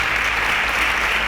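Audience applause on a quiz show, a dense, even wash of clapping heard alone throughout.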